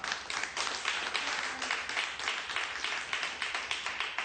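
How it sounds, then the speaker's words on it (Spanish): Sustained applause from an audience, dense and steady clapping filling the whole stretch at an even, fairly close level with no talk over it. "¿Te emocionan esos aplausos,"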